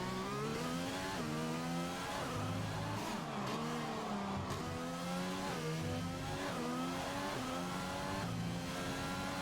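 A race car engine in a racing video game, set on a Mexico circuit, revs loud and continuous, its pitch stepping down in repeated drops as it downshifts through the gears, with brief tire squeal and no talking.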